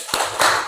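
A couple of sharp hand claps in a rhythmic spirit-clap routine led in a dance class, two close, loud strikes with a brief gap between them and no talking.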